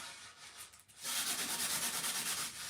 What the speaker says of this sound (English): Some 220 grit sandpaper there.